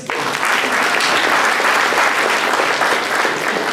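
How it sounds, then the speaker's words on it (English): An audience applauds the college counselors seated for a college-applications session. The clapping is loud and dense, sustained evenly for several seconds. "so you need to give them one more applause"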